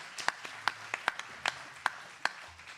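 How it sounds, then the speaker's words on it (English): Scattered claps from a small meeting audience of city staff and elected officials, a handful of sharp separate hand claps spread over a few seconds, fairly faint and thin rather than full applause. "So if you could give them a round of applause as well."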